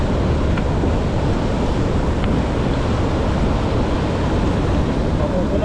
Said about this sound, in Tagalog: May waterfall sa likod.